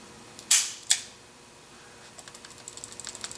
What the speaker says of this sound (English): hear that? That annoys me a little bit. That's the transfer bar.